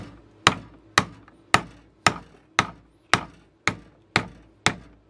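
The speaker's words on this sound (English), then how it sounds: "Then it should come off with one hammer blow" Hammer blows knocking the pins out of glued knife scales ring out nine times in a steady rhythm, each a sharp, close, loud strike with a short decay, and no voices.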